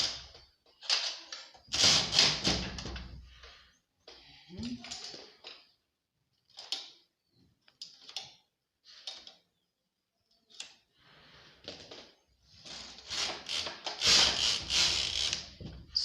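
Knitting machine carriage passed across the needles while knitting a picot hem on a dress, several bursts of clacking, whirring passes separated by pauses, with a person talking between passes.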